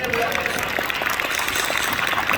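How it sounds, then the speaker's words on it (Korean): A congregation at a March 1st Independence Movement anniversary worship service claps together in a brief, steady round of applause, a continuous patter of many hands close by, with some talk mixed in. "우리 한번 박수 한번 해드립시다"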